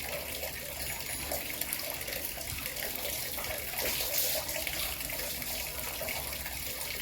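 Water and shampoo poured slowly over a Royal Enfield Classic motorcycle during a wash give a steady, close trickling splash with a constant hiss and no talking.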